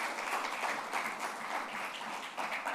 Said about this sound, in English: let us have a big round of applause for our chairman